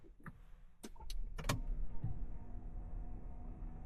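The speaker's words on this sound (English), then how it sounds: "So without your foot on the brake, just turn the ignition on." Ignition switched on in a 2025 Land Rover Discovery HSE D350, a quick series of sharp clicks and small mechanical clunks followed by a low hum as the cabin systems power up, close and quiet with no talking.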